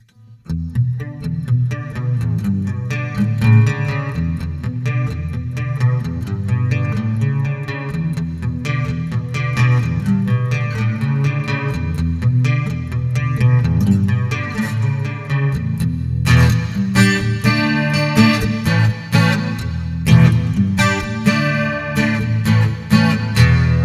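A strummed acoustic guitar, an Enya EAX1 solid-top, rings out with lush shimmering reverb and chorus effects, playing continuously and loud with sustained chords throughout.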